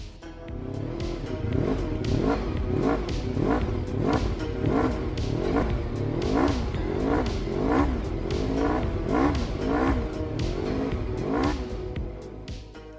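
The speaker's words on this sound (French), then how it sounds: "on vous embarque avec nous sur une balade un peu spéciale en Honda VFR 750R alias RC30" A Honda VFR 750R RC30 motorcycle is ridden, its engine revving up and easing off in a repeated rising-and-falling pattern, loud and close throughout with no talk.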